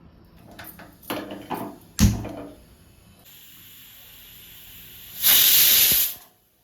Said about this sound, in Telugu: ఇప్పుడు నాలుగు విజిల్స్ వచ్చాయి స్టవ్ ఆఫ్ చేసేస్తున్నాను